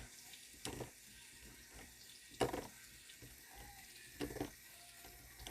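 Water runs from a kitchen tap to measure one cup for a keto West African peanut stew, heard as a low steady stream with a few brief louder splashes and clatters; no one speaks.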